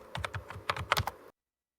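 Keys on a new computer keyboard are struck in a quick, uneven burst of crisp clicks for about a second, then the sound cuts off to silence.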